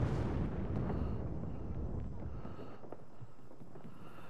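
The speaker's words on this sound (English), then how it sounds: "Somebody else just dropped another bomb." A bomb explosion in the Apex Legends video game, heard as a deep, rumbling boom that fades into a low, rolling roar over a few seconds, with no voices.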